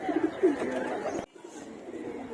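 A pigeon coos softly at a loft, a few low throaty calls close by, then quieter murmuring with faint background sounds.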